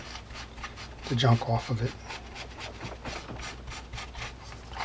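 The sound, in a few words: rubbing fishing reel part with chrome polish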